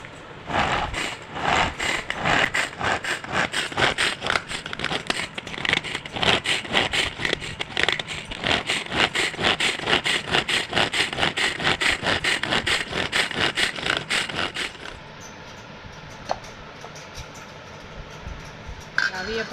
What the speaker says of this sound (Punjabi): ਇਹਨੂੰ ਆਪਾਂ ਗ੍ਰੈਂਡ ਕਰ ਲੈਨੇ ਆ ਇੱਕਦਮ ਨਹੀਂ ਪਾਵਾਂਗੇ ਸਾਰਾ ਕਿਉਂਕਿ ਫਿਰ ਗ੍ਰੈਂਡਰ ਔਖਾ ਹੋ ਜਾਂਦਾ ਹੈ